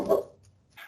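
A dog gives a single short bark up close, followed by a low rumble that fades and a brief breathy sound at the end, in a quiet room.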